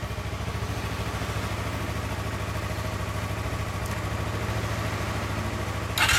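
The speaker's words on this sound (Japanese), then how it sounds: "じゃエンジンかけてもらっていいですか。" A Suzuki GSR250 motorcycle fitted with an aftermarket Realize exhaust idles close by, a steady low throbbing pulse that holds even throughout, with a slight rise at the very end.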